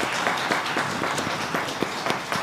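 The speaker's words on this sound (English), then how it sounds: "Please, let's give another round of applause for Dr." A conference audience applauding, a dense, steady patter of many hands clapping throughout, fairly close and even in level.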